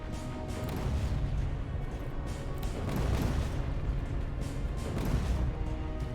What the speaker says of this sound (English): A little late on those explosions, guys.